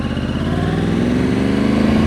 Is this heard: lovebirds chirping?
no